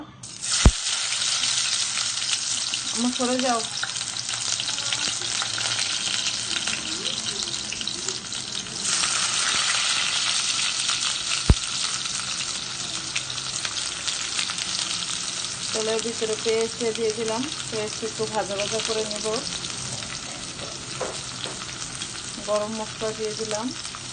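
Beef lung frying in a pan, a loud continuous sizzle with stirring and occasional clanks, while a voice speaks briefly at times over it.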